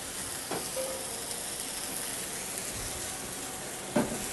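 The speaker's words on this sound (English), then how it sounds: "So we're going to deglaze there. It's going to flame up a little bit." Braised cabbage in a hot pan, deglazed with high-alcohol liquid that flares up, gives a steady, close sizzle with a couple of brief utensil knocks.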